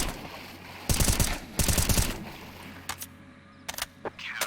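Automatic gunfire in CS:GO aimed at fish, two rapid bursts close up, then a few scattered single shots and clicks in a quieter game scene.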